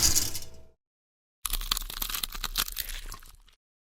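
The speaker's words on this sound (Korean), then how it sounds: "치킨 껍질의 바삭바삭함, 갓 구운 빵의 노릇노릇함" Crispy fried chicken skin crunching in a short close burst, then a pause, then a longer run of loud, crackly bites and crunches, no talk.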